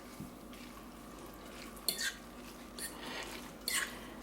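Roasted, charred peppers being stirred into a fonio salad, with scattered utensil scrapes and light clinks against the bowl, close and fairly quiet.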